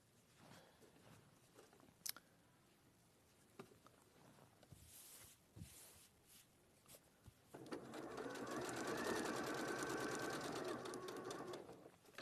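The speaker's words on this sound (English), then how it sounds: "you're just going to stitch that short bit there" A sewing machine stitches a short quarter-inch seam, starting after a few quiet clicks and handling noises, then running in a steady rapid whir for several seconds, faint and close.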